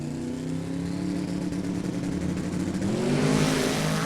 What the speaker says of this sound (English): you really heard the tire squall out there